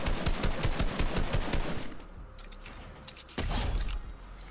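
Rapid gunfire rattles in Fortnite, a fast burst of repeated shots that stops and gives way to quieter game sounds, followed by another loud hit and shorter bursts, with no talk over it.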